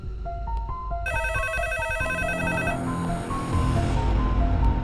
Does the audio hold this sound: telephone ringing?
yes